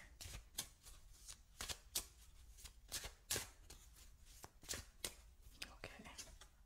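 A deck of oracle cards is shuffled close up, producing quiet, rapid, irregular papery slaps and riffles that repeat steadily throughout.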